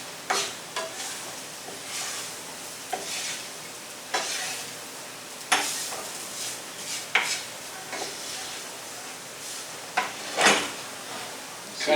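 A spoon scraping and stirring flour into browned ground beef in a pan while making gravy, with a soft sizzle underneath and sharp, irregular scrapes and clinks recurring every second or so.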